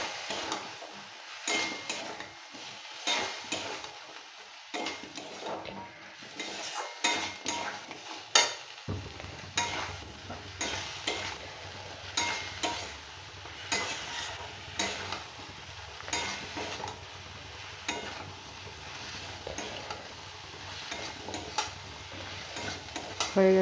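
Fish with spices, salt and a little water frying in a pan for a fish curry, a soft continuous sizzle with repeated scraping stirs and spoon clinks against the pan.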